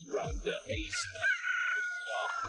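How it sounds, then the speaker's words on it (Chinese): Roosters crow from the farm around a fishing pond, a drawn-out call rising over nearby speech and splashing activity, moderately loud and somewhat distant. "你听，这四周都是鸡鸣的声音"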